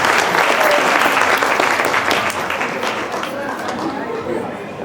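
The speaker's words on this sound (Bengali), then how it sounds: "তাদের জন্য জোরে করতালি।" An audience claps loudly for performers coming on stage at a Christmas event, dense sustained applause that is strongest at the start and tapers slightly over several seconds.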